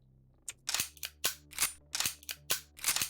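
Gunfire in the video game Quasimorph: about ten sharp, loud shots in quick irregular succession, each a crisp crack with a short tail, standing alone over a faint low hum.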